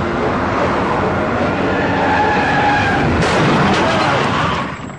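Two cars skidding at very high speed just before colliding, in a Telugu comedy film scene: a loud, continuous roaring screech and rush that holds for about five seconds, then eases off at the end.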